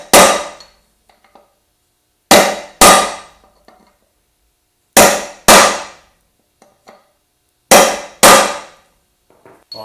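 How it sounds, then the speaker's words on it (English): Six sharp metallic hammer taps on a center punch set against a Subaru wheel hub being re-drilled, coming in spaced pairs with quiet gaps between them, loud and close. "Line it up with the center punch, hold it straight up and down, give it a tap."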